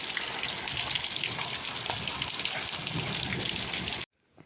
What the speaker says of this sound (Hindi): ये देखो भाई ओले कितने सारे, ये देखो अभी और आएगा शायद से